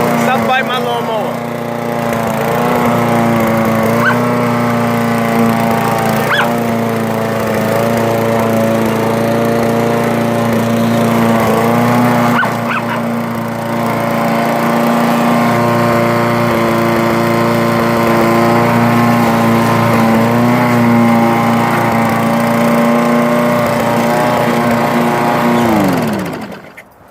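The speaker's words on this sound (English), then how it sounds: "Stop biting my lawnmower." Loud lawn mower engine running steadily up close while a blue nose pitbull bites at it, the motor's pitch wavering slightly as it labors before cutting off abruptly at the end.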